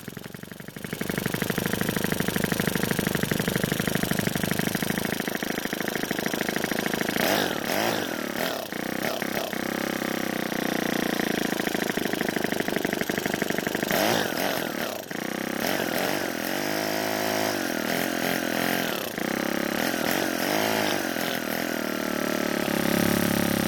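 A small Ryobi 4-cycle string trimmer engine runs loudly and steadily close by, its buzzing note wavering and surging in speed throughout without stopping.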